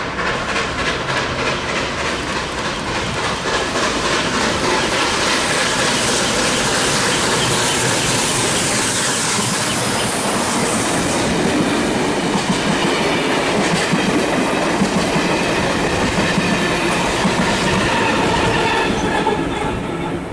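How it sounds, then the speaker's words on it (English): Steam locomotive 3265 rolls past a station platform, loud and close, with steady clickety-clack of wheels over rail joints and squealing wheels. The passing train fills the whole stretch without a break. "We have steam locomotive 3265 passing platform number 3."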